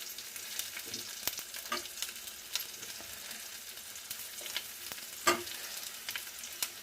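Tomatoes fry in oil in a pan with a low, continuous sizzle, broken by occasional crackles and stirring scrapes.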